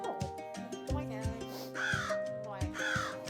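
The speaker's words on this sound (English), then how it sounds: "And then we have our crows, Madison and Corbin." Crows at a raptor rehabilitation center give repeated harsh caws in short bursts, fairly close and loud, with a few overlapping calls.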